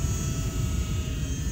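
An Eachine mini P-47 warbird RC model plane cruises at about 90% throttle on its maiden flight, giving a steady, continuous electric motor and propeller whine with constant loudness and no voices.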